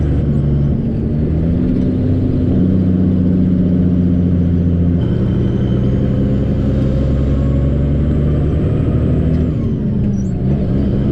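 A big diesel truck engine drones steadily as the rig drives along, a loud, continuous low rumble with shifting harmonic tones and a brief change in pitch partway through.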